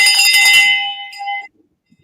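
A hand bell rings out once with a bright metallic clang, its tone ringing on and decaying over about a second and a half before cutting to silence.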